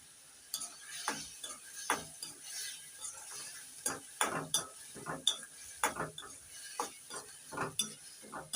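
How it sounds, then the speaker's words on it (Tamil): Repeated scraping and clattering of a utensil stirring crab in a hot pan, with a steady sizzle underneath, in uneven bursts. "நண்டை போட்டு நல்லா 2 கிண்டி கிண்டிட்டு"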